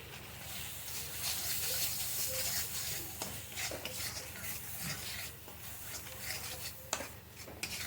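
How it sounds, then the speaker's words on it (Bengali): A ginger-garlic spice paste for prawn malaikari sautés in a pan, a faint, steady frying hiss with occasional soft stirring scrapes and a few small pops. "মশলাটাকে ভালো করে কষিয়ে নিচ্ছি"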